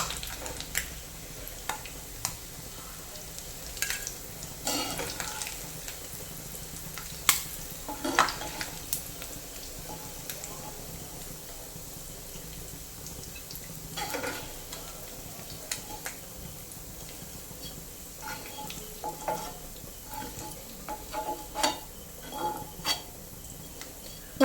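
Kerala-style natholi anchovies fry in hot oil with a soft, continuous bubbling sizzle, broken by scattered clicks and scrapes of a utensil against the pan.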